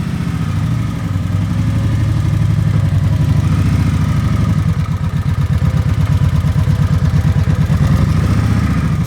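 A motorcycle engine runs loud and close while the bike is ridden slowly out of a driveway on a first ride of the year, with a steady low, throbbing idle that turns into a choppy, pulsing rumble as it moves.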